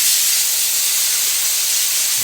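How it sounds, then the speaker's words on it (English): Cooking spray sprays onto aluminum foil in one continuous, close, loud hiss lasting a couple of seconds, then cuts off. "Aluminum foil, a little bit of spray."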